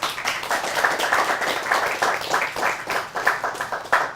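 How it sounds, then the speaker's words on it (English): Audience applause for a guest speaker at an urban education speaker series event, a steady wash of many hands clapping at moderate loudness, continuous throughout with no talk over it. "let's give a warm round of applause for Dee Watkins."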